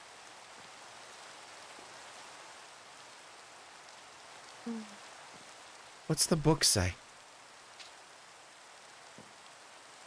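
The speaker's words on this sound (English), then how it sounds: "Sorry about the rain." Steady rain falls outdoors as a soft, constant hiss throughout, while a brief murmur and a short spoken question rise briefly above it.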